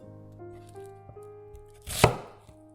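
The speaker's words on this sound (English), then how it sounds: "Cut half onion into smaller pieces." A knife cuts half an onion into smaller pieces, giving one sharp chop against a board over a soft tonal background.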